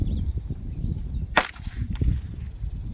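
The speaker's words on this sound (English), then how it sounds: "Cock my gun, and firing at the ground." One sharp gunshot is fired into the ground outdoors during horse desensitization training, a single sudden crack standing out against quiet background rustle.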